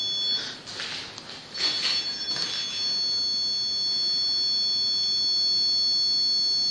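A K2 EMF meter goes off inside a castle, giving a steady high-pitched electronic tone that holds for several seconds, with a few soft scuffing noises early on.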